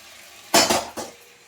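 Boiled potato and cauliflower go into a hot pan and are stirred, giving three quick scraping, clattering bursts of utensil against metal, close and fairly loud over a soft sizzling background.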